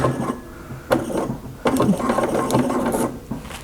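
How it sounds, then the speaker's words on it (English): A home sewing machine runs a straight stitch through fabric for a catch-all bag, giving short mechanical bursts of rapid whirring and clicking separated by brief pauses. "I'm not zigzagging, I'm straight stitching. We'll see if my machine hates it"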